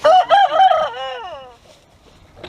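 A rooster crows loudly nearby, one full crow with a rising then falling tone, followed by quiet.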